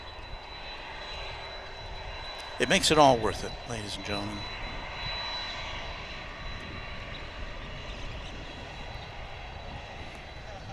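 Delta Airbus A220-100 jet engines at DFW International Airport, a steady broadband roar from a plane in the distance running under a voice that is talking throughout, with a brief louder burst of talk near the start.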